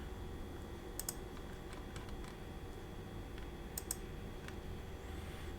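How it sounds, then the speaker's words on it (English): Keys tapped on a computer keyboard, sparse light clicks in small clusters spread over several seconds, faint and close against a steady background hum, no talking. "I'm going to type that in here."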